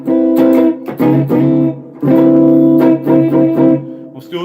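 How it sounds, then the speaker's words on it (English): An electric guitar plays through a regular reverb effect in a studio, with loud sustained chords and phrases in short bursts that ring out into a reverb tail between them. "So we're not going to use the mod. We're going to use a regular reverb here."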